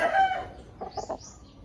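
A Hatch gamefowl rooster calls with a short, fairly faint crowing burst of a few clipped notes, heard alone with no talk.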